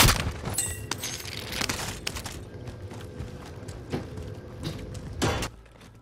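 Gunfire in a video game, several sharp cracking shots scattered across a few seconds, loud and near, with a busy background that fades out at the end.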